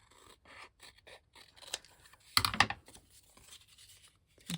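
Scissors trimming fabric scraps for a quilt, a quiet series of short snips and rustles with a louder burst of cutting near the middle.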